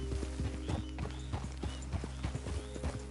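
Horse hooves clip-clopping at a steady gallop in Red Dead Redemption 2, close and continuous over a low droning game background, with a short whinny mixed in.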